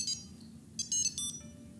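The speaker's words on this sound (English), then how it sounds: "it'll ring my phone like so" Phone ringtone set off remotely by double-pressing a Tile Sport or Tile Style Bluetooth tracker, heard as short bursts of bright, high-pitched electronic tones in a rising pattern over a low room hum, moderately loud and close.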